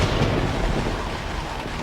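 A violent thunderstorm with large hail gives a dense, roaring wash of noise with deep rumbling underneath, loud and unbroken throughout.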